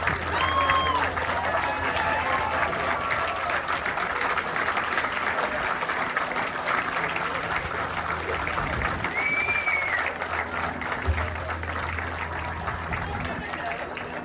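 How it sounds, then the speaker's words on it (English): An audience at the BC Aviation Museum applauding, heard as sustained, dense clapping that carries on steadily from start to finish, with a few faint whistles and some crowd noise mixed in. "Big applause for these great folks."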